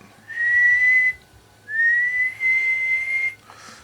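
Two long, steady whistled tones into a two-tube mobile radio's microphone, loud and close, with a short gap between them and a faint hiss underneath.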